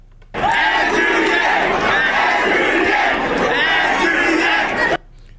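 A large crowd roars and cheers at a political campaign event as Fetterman crowd surfs, a loud, sustained wall of voices lasting several seconds before cutting off abruptly.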